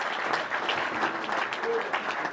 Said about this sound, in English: let's give Scoogie a big round of applause